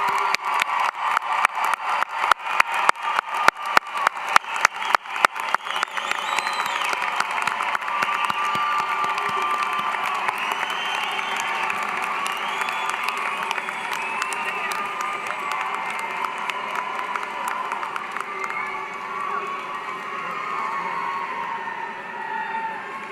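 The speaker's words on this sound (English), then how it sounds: "let's give them a big round of applause to thank them." A large crowd applauds steadily at the UCF Spring 2025 commencement ceremony, with scattered cheers and whoops rising over the sustained clapping; sharper individual claps stand out early on.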